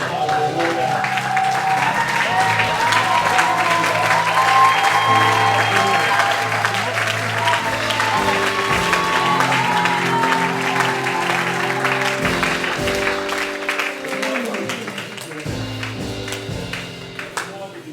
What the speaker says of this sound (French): Nous allons acclamer très fort Dieu.